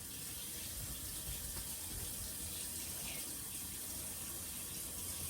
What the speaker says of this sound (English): let me turn my water back on because I'm still not done washing my hands.